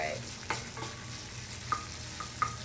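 Capers frying in a pan, a steady soft sizzle with a few light clicks and scrapes of stirring, close and fairly quiet, no talking.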